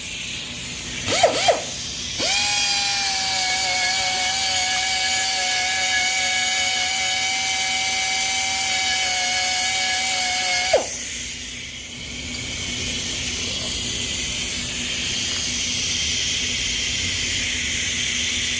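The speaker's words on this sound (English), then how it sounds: "And that's just a big old carbide burr." A large carbide burr on a power tool grinds a cylinder head during porting and polishing, producing a steady high whine for about eight seconds, followed by a lower, quieter hum with a faint buzz underneath.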